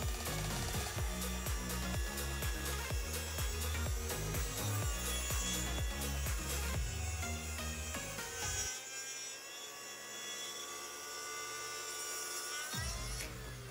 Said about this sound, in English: Now we're gonna start cutting the final dimensions. We are using here again our track saw from Makita.